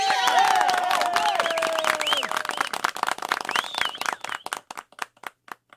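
A single person layers many voices into a homemade crowd cheer: overlapping whoops and shouts swell loudly, then thin out into scattered claps and cries that trail off toward the end.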